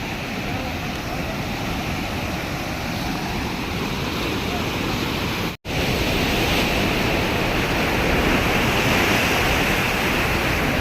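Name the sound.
waterfall water falling from a hill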